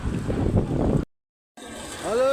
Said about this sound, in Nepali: आज बुर्तिवाङमा एकदमै धुलो भरि हावाहुरी लागिरहेछ